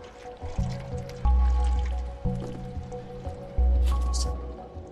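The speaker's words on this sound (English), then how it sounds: "Drink water." A cat lapping water in the video game Stray, with soft wet squishing laps repeating in a loose rhythm, close and clear, over a faint ambient background.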